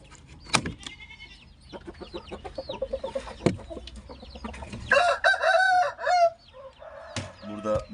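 A rooster crows once, loud and close, over a yard of softer clucking hens and distant bleating, with a second fainter crow near the end.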